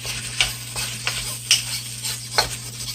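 Vegetables stir-frying in a pan: a close, continuous sizzle with a steady low hum beneath and several sharp spatter clicks and utensil scrapes spaced roughly half a second apart, no voices.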